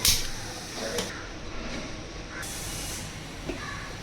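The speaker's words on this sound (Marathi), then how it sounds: "आता गॅस पेटवते" A gas stove burner lit in a home kitchen while cooking chicken, giving a steady broadband hiss of flowing gas with a couple of brief clicks, fairly close.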